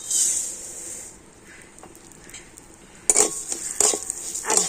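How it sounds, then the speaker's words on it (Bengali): Rice shifting and sizzling in hot ghee, with soft stirring scrapes and a few sharper clinks of a utensil against the pan toward the end. "এর সাথে চালটাকে একটু ভেজে নেব"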